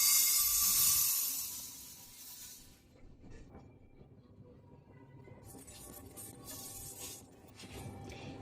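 Mustard seeds, two bowlfuls meant for green mango pickle, pour out in a bright rushing hiss for a couple of seconds, followed by quieter rattling and light kitchen clatter.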